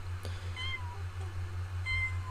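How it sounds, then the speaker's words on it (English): Cat meowing in the Sims 4 video game, several short high mews spaced across the moment over a steady low game hum, fairly quiet and close. "Oh, I thought the cat was just following, but I think she's going to go play on her toy."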